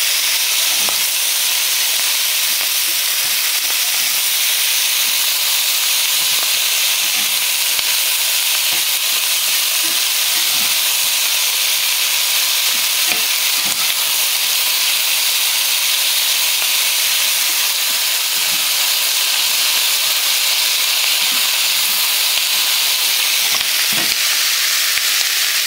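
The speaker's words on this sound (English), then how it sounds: "I got a good sizzle going on" Continuous loud sizzling and hissing of fajita vegetables in a hot pan, punctuated by scattered pops and occasional scraping of stirring, with no voices.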